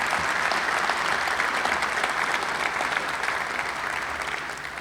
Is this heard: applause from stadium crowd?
yes